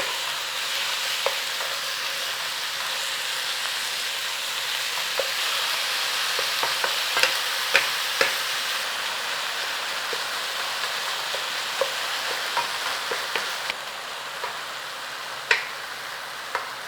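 Ground chicken frying in a pan and being broken apart with a utensil: a steady, close sizzle runs throughout, dotted with scattered scraping clicks and taps, with no talking.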